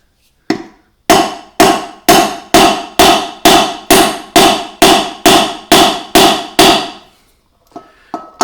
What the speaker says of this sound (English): You need to make sure is that you're only hitting the bearing and nothing else.